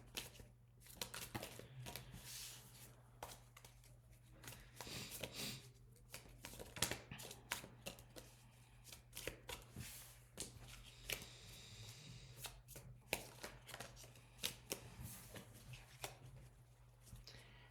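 Playing cards being shuffled over and over, crisp riffles and rapid flutters with soft shuffling between, close up and continuous with no talking.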